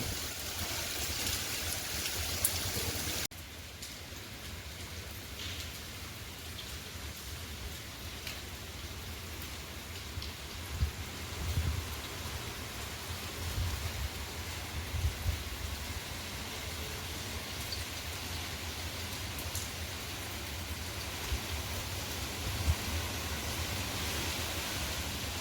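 Heavy seasonal first rain falls over open farm fields as a steady, dense hiss that drops slightly in level after the opening seconds and then holds constant throughout.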